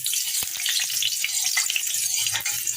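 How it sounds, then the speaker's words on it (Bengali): Hot oil sizzles in a kadai as it is stirred. A steady bright hiss is broken by small spatters and soft scraping under it. "তেলটা আমার গরম হয়ে গেছে এবার আমি এটা নাড়িয়ে নেব"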